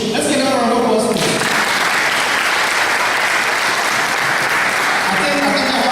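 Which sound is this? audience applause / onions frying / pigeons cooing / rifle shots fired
audience applause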